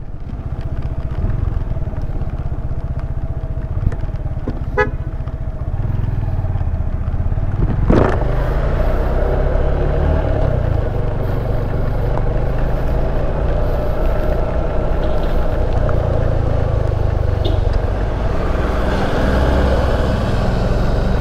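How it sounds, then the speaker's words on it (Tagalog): Motorcycles and cars drive along a flooded road in Puerto Princesa City, Palawan. Engines drone steadily and close by, with clattering, a passing vehicle swelling around the middle and a continuous wash of traffic and water noise. "So may mga sasakyan na rin tayo na sasalubong, no?"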